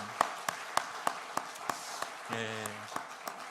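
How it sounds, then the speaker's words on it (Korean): Steady rhythmic clapping in unison from a congregation during a Sunday church worship service, evenly spaced claps about three per second, with a voice briefly speaking midway. "기쁨과 영광의 박수 한번 올려드리겠습니다"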